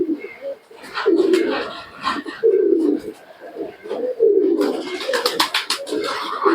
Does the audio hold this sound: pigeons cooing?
yes